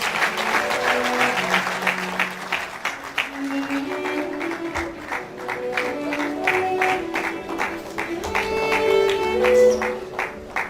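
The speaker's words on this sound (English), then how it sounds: "Please, there is a round of applause for His Excellency." Audience applause at the opening ceremony of an international ICT conference, a sustained round of clapping lasting about ten seconds with music or tones playing over it and some crowd noise.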